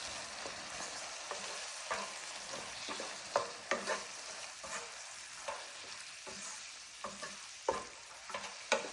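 Chicken cooking in a pan with saffron water gets stirred, a soft steady sizzle broken by repeated scraping and tapping strokes of a spoon at an irregular rhythm, fairly quiet and close.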